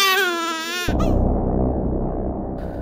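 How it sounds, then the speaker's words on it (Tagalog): A baby crying sound effect in a horror story: a loud, wavering infant wail cuts off abruptly and gives way to a deep, rumbling drone that fills the rest of the moment. "may narinig akong iyak ng sanggol sa"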